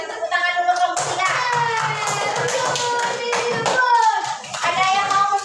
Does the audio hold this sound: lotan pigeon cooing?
no